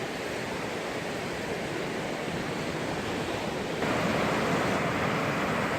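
Ocean waves break and wash at sunset in a dense, continuous roar of surf, loud and steady throughout and swelling slightly louder toward the end, with no voices.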